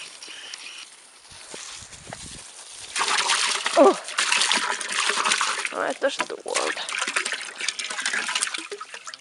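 Water runs from a hose at a horse stable, splashing and trickling steadily through most of the stretch while people talk nearby.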